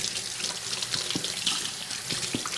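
Water runs from a tap into a sink during handwashing, a steady close splashing rush with small intermittent drips and bumps.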